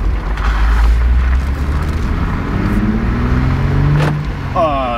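Jeep engine with a newly installed intake revs in a loud, close, low rumble that holds steady with a brief throttle swell near the end.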